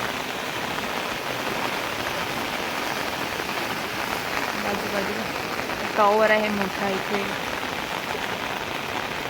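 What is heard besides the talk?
heavy rain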